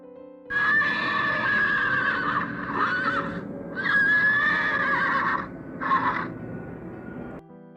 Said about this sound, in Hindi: ये है घोड़ी, जिसे हम इंग्लिश में बोलते हैं मेयर